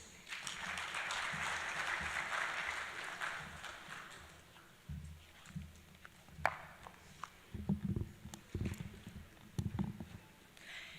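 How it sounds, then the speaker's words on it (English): Audience applause at the opening ceremony of an African Union forum in Ghana, a sustained patter of clapping that fades out, followed by amplified speech and scattered sounds. "A round of applause."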